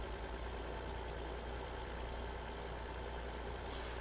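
A tractor engine in Farming Simulator 2015 hums at a steady, low, quiet idle-like drone without any talk, with no clear rise in pitch.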